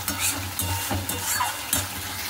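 Nigella seeds and poppy seeds tempering in hot oil, a close steady sizzle broken by several stirring scrapes at an uneven rhythm.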